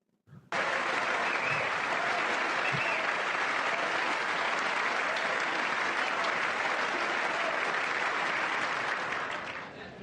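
Members of Congress stand and applaud in a large chamber, a dense, sustained burst of clapping that starts abruptly, holds loud and even, then begins to thin toward the end.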